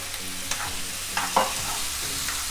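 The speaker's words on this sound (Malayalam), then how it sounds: "ഇനി നമുക്ക് ഇതിലേക്ക് പ്രോൺസ് ഇട്ട് കൊടുക്കാം" Half a kilo of tiger prawns goes into a pan of masala gravy, sizzling and frying with a few stirring scrapes and soft clicks against the pan, fairly close and with no talk.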